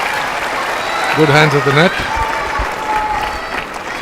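Spectators applauding at a professional tennis match in Chennai, a broad wash of clapping and crowd noise under a commentator talking.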